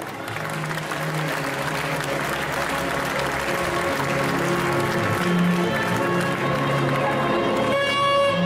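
A festival crowd gives sustained applause for a Viking-punk cosplayer at an indoor cosplay contest, steady dense clapping throughout with music and a voice audible beneath it.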